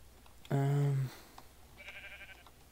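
A sheep bleats once in Minecraft, a single loud, strongly pitched note lasting about half a second, followed by faint high game chimes in a quiet background.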